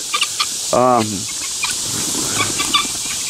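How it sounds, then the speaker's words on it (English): A single loud harmonic squawk from a guinea fowl, followed by fainter scattered clucks and calls from guinea fowl and chickens in the background on a homestead. "the guineas and the chickens are just going nuts for some reason"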